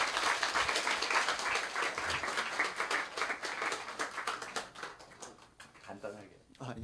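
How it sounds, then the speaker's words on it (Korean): A church congregation claps to welcome a guest. The applause is loud and close at first, thins out after a few seconds, and brief talking can be heard as it fades. "박수로 환영해 주시면"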